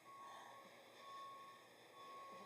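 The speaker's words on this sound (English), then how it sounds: "how long ago do you think the beeping started?" A steady electronic beep repeats at regular intervals, like a vehicle reversing alarm, heard faint and distant over a low background hum.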